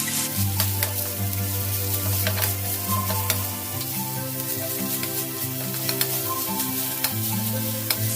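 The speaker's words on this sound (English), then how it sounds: "On a high flame, mix this." Corn fried rice being stir-fried restaurant-style over a high flame, giving a steady, close sizzle with scattered stirring clicks over a constant low hum throughout.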